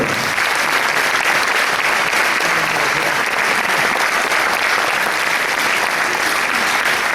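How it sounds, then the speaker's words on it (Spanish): An audience at a Paraguayan harp day concert gives sustained, dense applause of thanks that stays loud and even throughout, with no other sound standing out. "siguen esos aplausos de agradecimiento"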